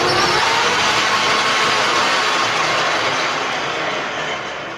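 A LeBlond Regal 16 x 72 engine lathe running at 396 RPM gives a loud, steady mechanical whir with a faint clatter, holding evenly and easing slightly toward the end, with no talk.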